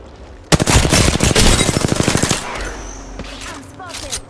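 Apex Legends gunfire: a loud, rapid automatic burst of close shots lasting about two seconds, followed by fainter scattered sounds and a few distant chirps.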